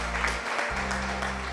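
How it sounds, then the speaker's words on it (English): Crowd applause in a courtroom scene from the video game Ace Attorney: Justice For All, a steady, loud wash of clapping over low game music, with no pause across the short stretch. "Thank you for the applause, Avery."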